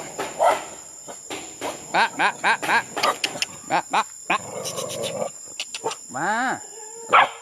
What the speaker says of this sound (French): Oh, il y a des chiens de partout.